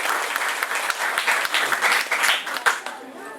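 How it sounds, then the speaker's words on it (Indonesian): A crowd claps at a gathering, a busy, moderately loud round of applause with voices mixed in, tapering off near the end. "jadi tepuk tangan"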